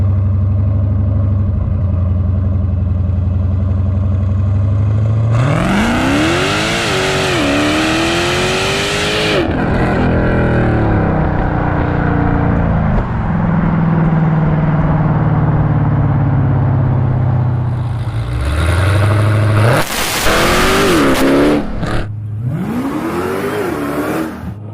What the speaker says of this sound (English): minus the blower whine and extremely loud exhaust